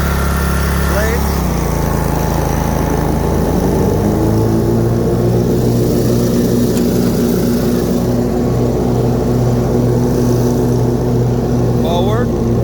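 Snapper 150Z zero-turn riding mower with a 26 hp engine running steadily close by. Its 50-inch deck blades engage a few seconds in and add a deeper whirring drone. There is no talking over the motor.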